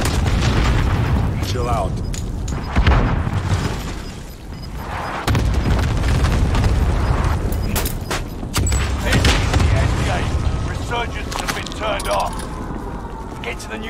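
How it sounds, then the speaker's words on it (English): Cluster strike explosions in Call of Duty Warzone, a series of heavy booms and rumbling blasts mixed with gunfire and game effects, while a player talks over them. "Enemy cluster strike. Watch your head."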